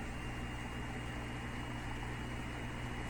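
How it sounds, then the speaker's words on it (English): Laptop cooling fan spinning hard, a steady loud whir like a jet engine, with constant broadband hiss and low hum lasting throughout. "That jet engine sound is actually my laptop"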